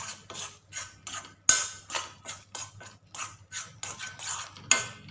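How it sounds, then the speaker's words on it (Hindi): A spoon mashing and mixing an orange-coloured milk cake mixture in a pan, with rapid repeated scraping strokes and a couple of sharper clinks against the metal, close and fairly loud. "अच्छे से इसको चम्मच की मदद से मसलते हुए मिला लेंगे"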